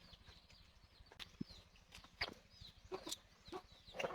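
Several short chicken clucks and squawks come in irregular bursts, fairly close, over a quiet background with no talking, as the chicken is fed rice.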